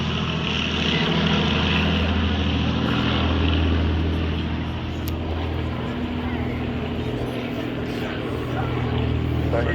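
A Battle of Britain Memorial Flight Avro Lancaster bomber makes a propeller flypast, a loud sustained piston-engine drone that swells and holds steady throughout, with people talking nearby.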